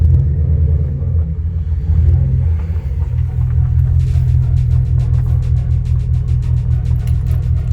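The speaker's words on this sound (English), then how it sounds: "Alright, let's go take it on a test drive real quick." Second-generation Dodge Ram pickup with a freshly installed radiator on a test drive, its engine a deep, steady rumble heard from inside the cab, with a faint rapid ticking joining partway through.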